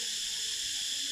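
Crickets at a farm in Phang Nga, Thailand, chirping loudly as a dense, continuous high-pitched drone that fills the whole moment without pause.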